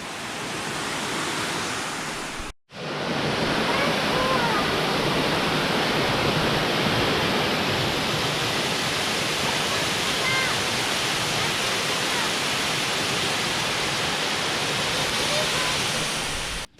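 Depot Falls waterfall near Haast Pass on the South Island's West Coast, New Zealand, a loud, close, continuous rushing roar of falling water with a brief cut early on and no talk.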